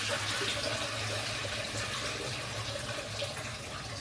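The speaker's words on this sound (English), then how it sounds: "the grains must be washed multiple times until the water runs clear" Tap water runs steadily and fairly loudly while rice grains are washed for a simple family dinner in Vietnam, a continuous splashing hiss with no one talking.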